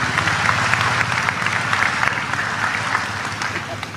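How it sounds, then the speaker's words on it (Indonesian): Applause from an audience at an Islamic religious gathering, given in honour of Kiai Haji Agus Ali Mazhuri; steady, dense clapping fills the hall for several seconds, with some voices mixed in underneath. "Tepuk tangan untuk beliau"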